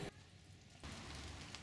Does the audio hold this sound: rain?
yes